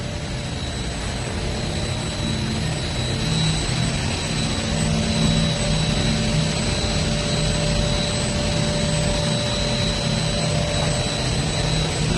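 A dosing pump running in the water treatment plant of a gas power station, heard as a loud steady mechanical hum and whine with constant broadband noise and faint tonal lines, unbroken throughout with no talking.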